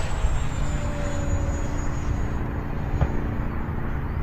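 A Freewing Stinger 4S 64mm EDF RC jet flying a loop outdoors, a steady ducted-fan whine whose pitch slowly falls as it passes at a distance over constant wind noise, with no talk.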